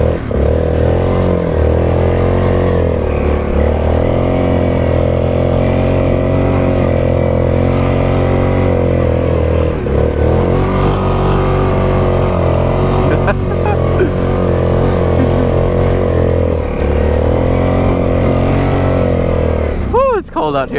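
A Yamaha Grizzly 660 ATV engine revs loud and close while drifting in figure eights on snow, sustained engine drone rising and falling with throttle, plus occasional clatter.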